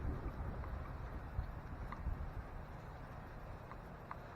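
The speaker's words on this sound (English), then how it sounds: "it's very windy out today." Steady low wind rumble buffets the microphone throughout, a broad outdoor roar with gusty fluctuations and no voices.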